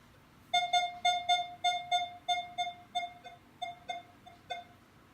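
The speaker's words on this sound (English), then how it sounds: "I get little beeps at 9 here and there at 9." A Minelab Equinox 600 metal detector, set to iron bias 3 and recovery speed 3, sounds a string of about a dozen short, clear electronic beeps in a steady rhythm while sweeping over a dime, loud and alone with no talking.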